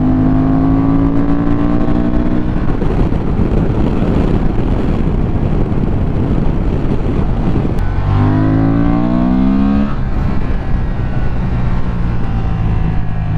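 A Honda Transalp 750cc motorcycle engine revs hard high in the range in a low gear, a loud continuous drone that climbs in pitch, dips and climbs again, mixed with heavy wind rush.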